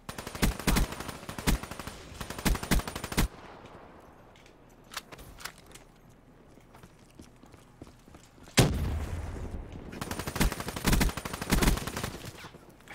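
Call of Duty: Black Ops 3 gunfire: loud, close bursts of rapid automatic shots, then a quieter stretch of scattered single shots, then heavy sustained firing that resumes toward the end.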